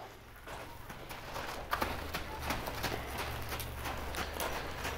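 A five-year-old Mustang horse lopes during a training session, its hooves giving a steady, moderately loud clip-clop rhythm on the ground, with faint background ambience and no talking.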